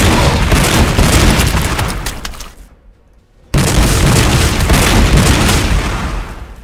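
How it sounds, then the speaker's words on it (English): A Dreadnought in the Warhammer 40k Sanctus Reach video game fires on orcs, loud rumbling booms and explosions rolling in a dense barrage, briefly dropping off before a second blast bursts back in at full force. "let's drop out the Dreadnought, who's now going to shoot the orcs in the back over there"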